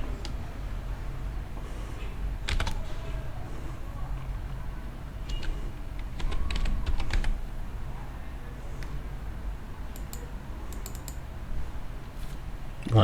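Typing data entry on a computer keyboard, bursts of quick key clicks over a low room hum, moderately close, a heavier thump midway and scattered taps toward the end, no talking.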